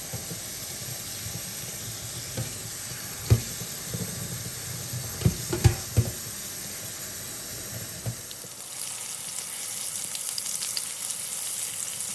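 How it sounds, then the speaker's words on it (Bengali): Onion frying lightly in oil in a wok gives a steady close sizzle with a few sharp pops and stirring knocks in the first eight seconds, then a brighter, softer hiss toward the end. "একটা কড়াইয়ে তেল দিয়ে তারপর পেঁয়াজটাকে হালকা ভাজা ভাজা করার পরে"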